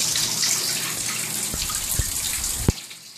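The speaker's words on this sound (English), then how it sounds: "I gravel vac with this one, and I suck out the water with this one" Aquarium water is siphoned into a bucket, pouring in a steady, splashy rush that is close and fairly loud. A few sharp knocks and drips come near the end, and no one speaks.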